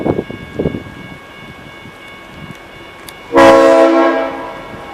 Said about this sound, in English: I can tell by the horn.